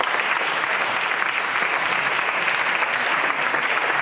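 Conference audience clapping for the organising team at a closing session, a full, continuous burst of many hands that stays dense and level throughout.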